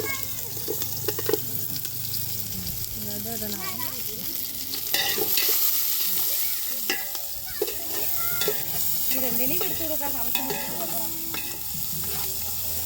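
Onions and green chilies frying in oil in a large village cooking pot, a continuous close sizzle with stirring and scraping throughout, while people talk over it.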